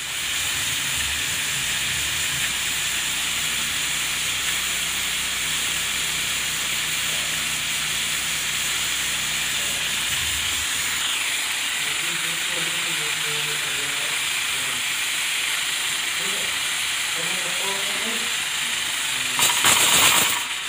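A pressure cooker on a gas stove hisses loudly and continuously with steam, its whistle not sounding properly, a low rumble underneath that drops away midway and a brief louder burst at the very end.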